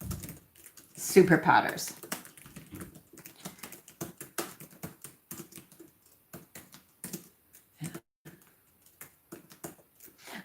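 Quick, uneven taps of typing on a computer keyboard patter along steadily. Someone speaks briefly over the first stretch.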